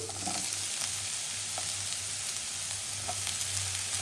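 Mushrooms hitting hot oil and butter with grated ginger, garlic and onion, giving a loud, continuous sizzle with a low steady hum beneath and occasional soft pops.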